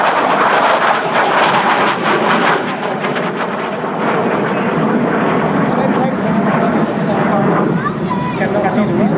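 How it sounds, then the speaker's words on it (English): Eurofighter Typhoon jet displaying at the Radom air show in 2013, a loud, continuous engine roar sustained throughout with an announcer's voice heard over it. "Major Luca Campello with his Typhoon is ready to perform"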